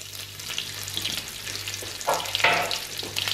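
Garlic sizzles and fries in a pan for a burrito filling. A soft, steady crackle runs throughout, with a few louder bursts near the end as it is stirred.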